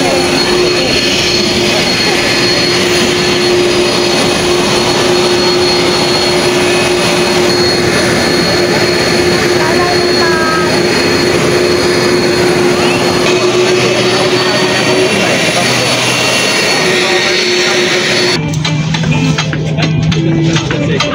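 Loud jet engine roar from a large passenger plane, a steady high whine, continuous and close, cutting out abruptly near the end.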